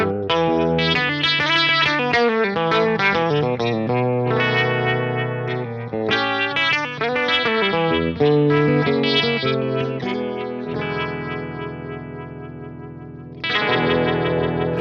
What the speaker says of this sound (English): Vibratone and reverb.